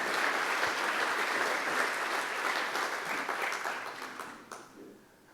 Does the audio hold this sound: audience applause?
yes